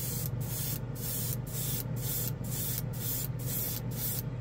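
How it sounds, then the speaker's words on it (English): Badger Sotar 2020 airbrush laying down Star Gold metallic paint onto black plastic, a quiet, steady close hiss broken by regular short pauses about every half second as the trigger is worked, no talk. "Much quieter airbrush compared to the Grex."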